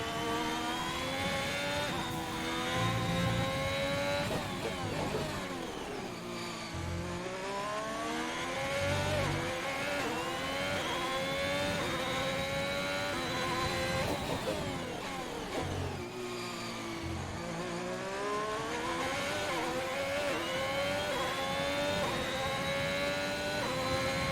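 An F1 race car engine from the F1 2021 video game screams through the final lap of the Bahrain Grand Prix, its pitch climbing through each gear and dropping on upshifts and braking, loud and continuous without commentary.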